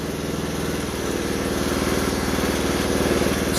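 Craftsman lawn tractor engine running loud and close, a steady low throbbing idle with firm, even pulses that swell slightly as it revs up.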